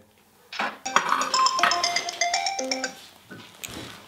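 A phone rings out during an outgoing call to a PR contact in Plovdiv: a bright, chiming electronic ringtone repeating steadily for a few seconds with no one talking.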